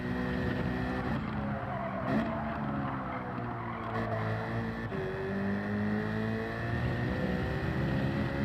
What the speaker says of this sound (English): Too much skid on the exit.